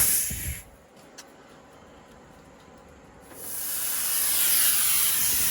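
Pressurized air purged through an AC refrigerant recovery tank line during a Carrier Infinity compressor replacement: a loud hissing rush at the start, a quieter stretch, then a sustained strong hiss building and holding to the end.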